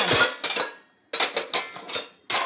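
Aluminium pots scrubbed and washed by hand with black soap, producing a series of close, irregular metallic scraping and clanking bursts with short pauses between them.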